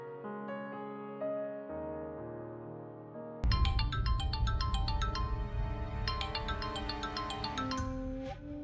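A phone ringtone plays a steady melodic tune, loud and continuous, shifting into a fuller, busier musical phrase midway, with no voices over it.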